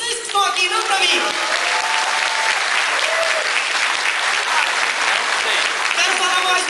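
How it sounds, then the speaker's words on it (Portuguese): A crowd at a public event in Urussanguinha claps loudly in sustained, dense applause that carries on evenly, with a voice faintly audible underneath. "Uma salva de palmas para vocês que estão aqui, não para mim."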